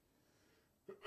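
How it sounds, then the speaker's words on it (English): A single sudden human sneeze bursts out at the very end after a faint intake of breath, close and fairly loud against near silence. "Hold on, I got a good sneeze."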